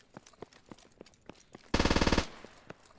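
A burst of bipod-mounted machine gun fire in the military shooter Squad: a rapid, evenly spaced string of about a dozen loud shots, preceded by soft footstep-like thumps, with no talking.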